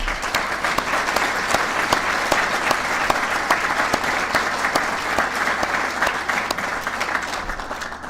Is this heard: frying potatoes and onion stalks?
no